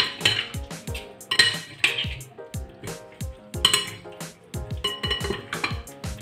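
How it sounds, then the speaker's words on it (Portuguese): Octopus and potato salad ingredients are tossed in a bowl with a utensil, giving repeated clinks and scrapes at an uneven stirring rhythm, close and clear, with no talking. "Y ahora vamos a mezclar todo muy bien. Todos estos ingredientes."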